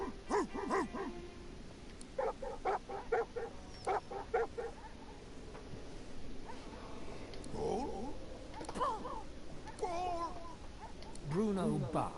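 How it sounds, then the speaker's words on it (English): Bruno the dog in the video game Divinity Original Sin 2 barking in quick bursts, with yips and whimpers mixed among voices talking, close and moderately loud. "Bruno barks, beside himself with joy."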